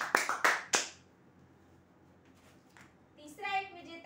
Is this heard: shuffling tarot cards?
no